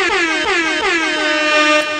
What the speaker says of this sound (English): turn my air horn up when it's aggressive